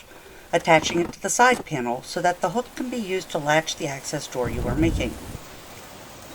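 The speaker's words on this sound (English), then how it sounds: "We had a sudden thunderstorm come through." A sudden thunderstorm outdoors, heard as a steady hiss of heavy rain beneath someone talking close by during a woodworking build.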